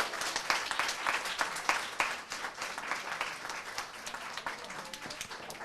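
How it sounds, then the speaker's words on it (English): A round of applause at a city proclamation ceremony in Harrisburg honoring a hair salon, with dense, steady clapping from a small crowd sustained throughout at moderate level. "A round of applause."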